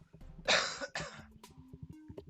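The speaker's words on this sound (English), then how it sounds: "Sorry if I keep coughing." A person recovering from a cold gives two harsh, close coughs in quick succession, followed by brief throat-clearing noises and quiet breathing.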